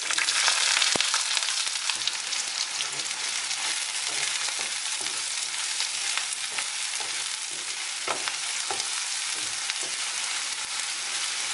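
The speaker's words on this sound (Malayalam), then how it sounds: "നമുക്കിതിലേക്ക് ഇഞ്ചി, വെളുത്തുള്ളി, പച്ചമുളക്, ചുവന്നുള്ളി ഇതെല്ലാം കൂടി ചേർത്ത് വഴറ്റാം." Mustard seeds, ginger, garlic, green chillies and shallots fry in hot oil in a kadai for a Kerala prawn thoran, a steady close sizzle with faint stirring scrapes and occasional pops throughout.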